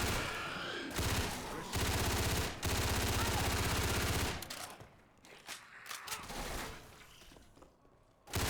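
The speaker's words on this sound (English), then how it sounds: "But that was a Magnum." Loud Magnum pistol shots and heavy game combat noise in Left 4 Dead 2 on the Pier Pressure map, dense blasts for several seconds, then quieter scattered thumps and clanks.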